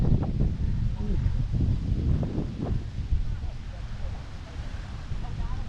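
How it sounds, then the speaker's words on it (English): Strong wind at Poipu Beach, Kauai, buffets the microphone in a constant low roar, with faint voices murmuring underneath. "it's so windy today"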